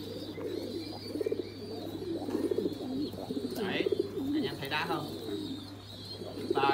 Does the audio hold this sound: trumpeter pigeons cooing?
yes